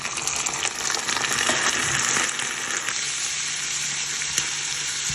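Liver sizzling and frying in a pan with onions for a Jaffna-style curry, a steady close crackle and hiss that swells for a moment and then settles to a softer sizzle, with occasional stirring and no talking.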